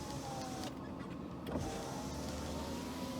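An electric window on a Mercedes W124, just after a switch repair, runs with a steady motor whir and glass rubbing for about three seconds, close and moderately quiet, with a small clunk partway through and no voices.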